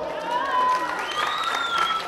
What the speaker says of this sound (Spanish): Aplauso para el de rojo.